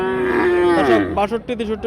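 A Sahiwal bull at a traditional village cattle market lets out one loud, close, drawn-out moo that falls in pitch and breaks into short grunts at the end.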